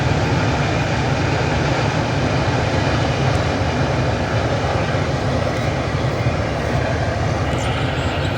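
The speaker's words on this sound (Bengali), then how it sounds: "এদিকে ট্রেনও চলে গেল" A train passes in the distance as rain threatens near an excavator work site, a steady broad rumble holding even and fairly loud throughout with no talk.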